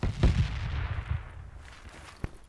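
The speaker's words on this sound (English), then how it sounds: "That's a friendly nade." A friendly grenade explosion in Project Reality, a heavy booming blast up close that rolls off into a fading rumble, followed by a single sharper distant crack.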